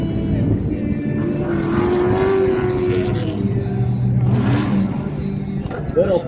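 An LS-powered Nissan S14 drift car revs and howls at a Drift Indy competition, its engine note rising and falling under a commentator's voice.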